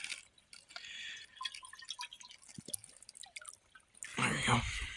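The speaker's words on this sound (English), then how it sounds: "I'm gonna stop here and fill up my water bottle though." Water trickles and drips as a bottle is filled from a clear woodland stream on an overnight backpacking trip, close and steady, ending in a louder gurgling rush.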